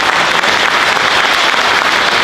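An audience at a book launch for a history of Focșani gives sustained, dense clapping, loud and close, filling the whole short stretch without pause.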